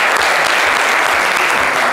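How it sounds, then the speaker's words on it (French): A live studio audience claps loudly and steadily for a participant on a lively Ivorian midday variety show, with dense, continuous applause and a few faint voices underneath. "on peut l'applaudir très très fort là-bas."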